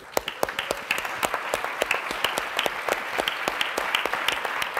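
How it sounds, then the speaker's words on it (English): A seated audience at a conference session gives a warm round of applause, many hands clapping in a lively, even patter that carries through the whole stretch with no talking over it. "we really owe Christopher a big round of applause"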